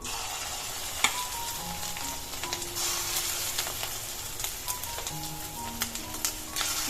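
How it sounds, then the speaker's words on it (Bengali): Lentil fritters (bora) fry in hot mustard oil with a steady, close sizzle and scattered small pops and spatters, lasting the whole stretch with no voices. "তেল গরম হয়ে গেছে এবারে সুন্দর করে করে আমি বড়াগুলো ভেজে নেবো"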